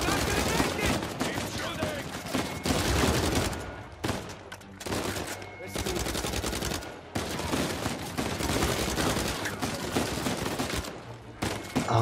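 Sustained automatic gunfire in Uncharted 4 as shots hammer cinder block cover, with loud, continuous bursts broken by brief pauses, and a voice talking over the shooting.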